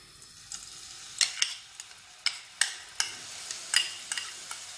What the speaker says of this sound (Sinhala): තෙල් ටික රත් වීගෙන එනකොට මම ඒකට අපේ ජින්ජර් ගාලික් පේස්ට් එක එකතු කරගන්නවා